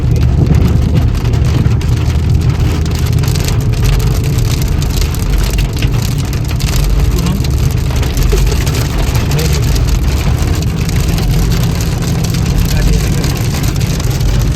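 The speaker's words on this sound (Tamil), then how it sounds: "மழை நல்லா வேகமாக வர வந்துருச்சு" Dense, steady roar of heavy rain pouring down continuously in Saudi Arabia, with a low engine-like rumble underneath and faint voices mixed in.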